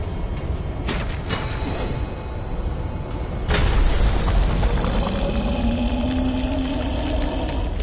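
Gunshots ring out during a boss fight in the horror video game Tormented Souls, two heavy booming blasts about two and a half seconds apart over a dense, rumbling game soundtrack.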